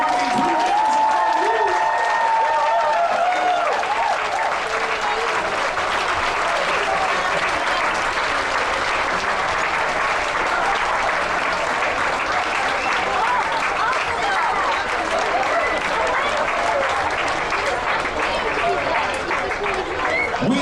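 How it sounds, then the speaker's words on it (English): Cruise ship passengers give the hard-working crew a sustained, dense round of applause, a crowd clapping steadily throughout, with a brief musical tone and some voices audible at the start. "let's have a huge round of applause for all these hard-working crew members"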